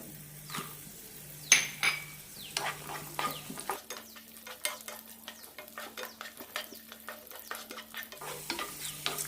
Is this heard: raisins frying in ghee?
yes